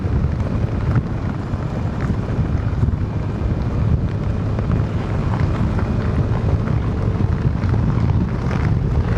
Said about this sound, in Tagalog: Grabe, ang lakas naman ng hangin.